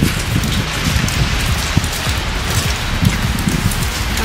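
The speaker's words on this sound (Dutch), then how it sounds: "It's a rainy day." Steady rain falls on a Berlin street, a dense, even patter of drops hitting the pavement at close range, with no voices.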